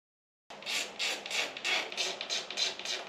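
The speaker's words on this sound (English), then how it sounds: "Now I'm going to go in with a little finer tip pen and just tune up all the little spots I missed" A fine-tip pen scratches across paper in close, steady strokes, a rhythmic rasping that starts after a brief silence and repeats about eight times.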